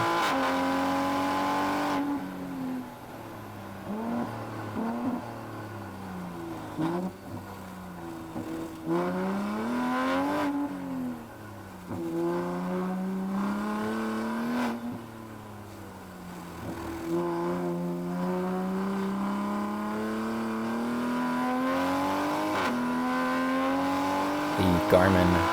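Toyota Supra race car on a time attack track, its engine droning steadily throughout with rising and falling revs as it shifts and brakes into corners, heard close from inside, with a voice talking over it.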